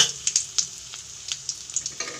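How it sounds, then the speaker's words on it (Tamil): Mustard seeds spluttering with chillies frying in hot oil, a run of quick sharp pops and crackles over a soft sizzle, close and fairly loud with no talking. "கடுகு நல்லா பொரிஞ்சிச்சு. கிள்ளி வச்சு 4 மிளகாய் போட்டுக்கலாம்."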